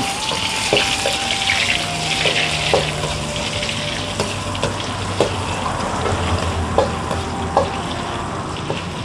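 Garlic and shrimp frying in oil in a pan for shrimp fried rice, a loud continuous sizzle and crackle with occasional scraping and stirring clinks, close up and without talk.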